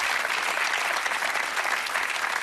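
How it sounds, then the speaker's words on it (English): A studio audience at a television game show claps in a dense, steady burst of applause, loud and close throughout, with no voices standing out. "Give him a round of applause"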